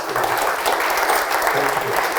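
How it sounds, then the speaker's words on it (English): An indoor audience at a Queen's Green Canopy event in Eastbourne gives Lord Lucas a brief burst of dense, steady applause, close and uninterrupted. "Ladies and gentlemen, can I have a right round of applause?"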